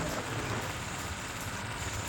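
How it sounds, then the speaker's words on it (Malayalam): Rain falls around midday at Chunakkara bund in Mavelikkara as a steady, soft, even hiss with no other distinct sounds. "അത്യാവശ്യം മഴയും കാര്യങ്ങളൊക്കെ ഉണ്ട്."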